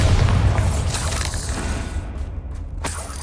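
Confringo and Bombardo spells blast in quick succession in Hogwarts Legacy, a loud, heavy booming explosion with rumbling, creaking debris that fades into scattered crackles and one final sharp burst.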